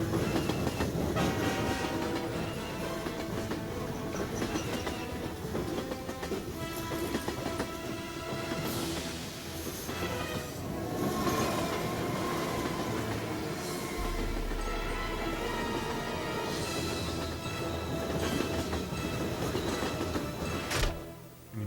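A toy train runs with recorded train effects: steady clickety-clack of wheels on rails, rumbling cars, and a horn sounding over the continuous noise.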